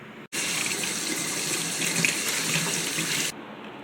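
Tap water runs into a pet's water dish in a loud, steady gush that starts abruptly and stops after about three seconds, with no talk.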